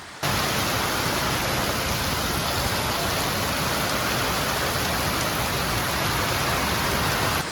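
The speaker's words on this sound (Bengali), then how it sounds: "ও সেই বৃষ্টি নেমেছে, সেই বৃষ্টি।" Steady rain pours down in a dense, even hiss that stays loud and unbroken from start to finish, with no voices over it.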